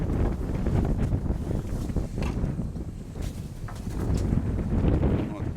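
Wind buffets a microphone outdoors at a pigeon loft, a continuous low rumbling roar with gusty swells, while someone talks over it.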